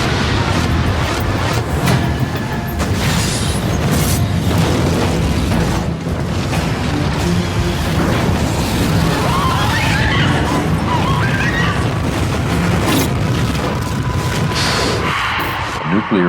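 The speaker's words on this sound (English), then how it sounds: "A nuclear weapon has been exploded in this area." Nuclear weapon blast: a sustained, loud, rumbling roar of explosion and crashing debris filling the whole stretch, dense and continuous with no pauses.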